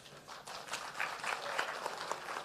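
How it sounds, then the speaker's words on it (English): Audience applause at a North West Province dialogue on a report's key findings: a steady crowd clapping that fills the whole stretch, dense and even, with a faint voice underneath. "Another round of applause."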